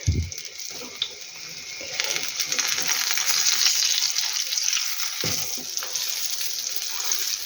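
Syrniki, Ukrainian cottage cheese pancakes, fry in an oil-filled pan with a steady, close sizzle. A few light clinks and brief faint sounds break through at points.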